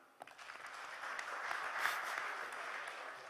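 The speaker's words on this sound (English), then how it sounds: "If it has, feel free to clap" An audience claps after a magician's card trick at the 2nd On-site IACTS iPREP Meet in Durgapur, a soft, diffuse patter of scattered hands lasting a few seconds and fairly distant.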